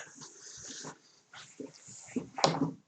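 A pet cat makes short, throaty noises, snorts and whimpers in bursts with gaps between them, close by and moderately loud, with the loudest burst near the end.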